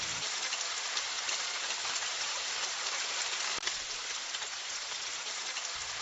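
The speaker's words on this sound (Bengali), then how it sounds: "হঠাৎ ঝমঝম করে বৃষ্টি শুরু হয়।" Sudden heavy rain pours down as a dense, continuous hiss and patter, steady and loud from start to finish, with one small knock partway through and no voices.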